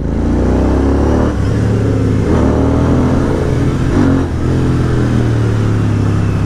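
A Royal Enfield Continental GT 650 motorcycle with aftermarket exhausts, revving loud and close, the deep engine note rising and falling in repeated throttle blips over a constant rumble.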